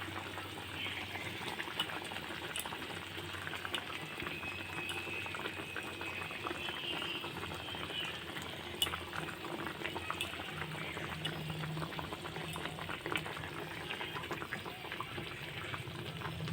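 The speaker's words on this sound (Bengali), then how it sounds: "চুলার আঁচটাকে হাই রেখে কিছুক্ষণ বলক আসা পর্যন্ত অপেক্ষা করব" Curry broth with eggs and lentil omelette pieces boiling in a pot on a stove over high heat, a steady, soft bubbling and simmering that carries on evenly throughout, with no talking.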